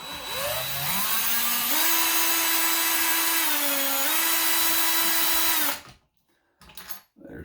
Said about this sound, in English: I'm just going to use my drill.